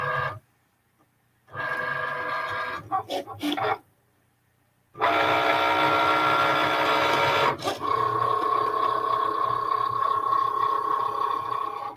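Cricut cutting machine cutting a rectangle, whirring motor bursts that start and stop in short runs, then a long steady mechanical run with a shifting whine, close and without talk.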